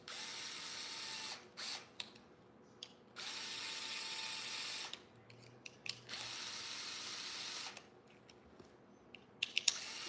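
Screws are driven down on Traxxas Sledge RC truck parts, with repeated close bursts of a small tool's whirring and clicking separated by short quiet gaps, faint overall.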